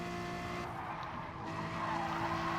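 A race car in a racing video game skids in snap oversteer: a steady tire screech over a sustained, droning engine note, loud and close throughout.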